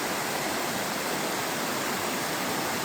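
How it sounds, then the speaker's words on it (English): Mountain stream rushing along a trail in Great Smoky Mountains National Park near Cosby, Tennessee, a dense, steady, close-up roar of flowing water with no pauses and no voices. "I'll put another clip up of the water up close right there."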